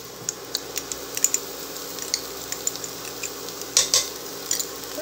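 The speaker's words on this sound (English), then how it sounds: "we're just going to stir that around and get that mixed in with the vegetables well" Tomato paste stirred into vegetables in hot oil, a spoon scraping and tapping the pan in scattered, irregular clicks over a soft, constant sizzle, with a louder clatter of knocks near the middle.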